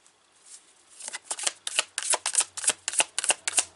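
Tarot cards are pulled and flicked from a deck, a dense run of crisp snapping riffles and slaps, close and fairly loud, with no talking over them.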